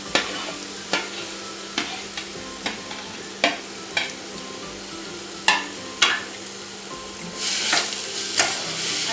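Grated bottle gourd for halwa is stirred in a hot pan, a spoon scraping in a steady series of sharp strokes over a soft continuous sizzle, close and alone with no voices.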